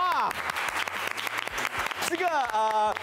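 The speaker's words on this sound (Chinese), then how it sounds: "OK 了，我们大家请起立，给我们的第一组掌声一下来哟！" An audience in a studio at a radio comedy redub event breaks into lively applause and clapping, loud and sustained, with excited voices and cheering over it.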